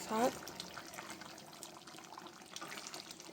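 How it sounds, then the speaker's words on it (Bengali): A little water trickles and pours into a pan of meat curry spiced with cumin and chili powder. It is fairly faint and continuous, with a short louder splash at the start. "তো সামান্য জল দিয়েছি"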